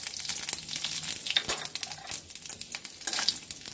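Dried red chillies and panch phoron frying in oil as a tempering for fresh bilimbi chutney, a close, crackling sizzle with rapid spluttering pops and stirring scrapes throughout.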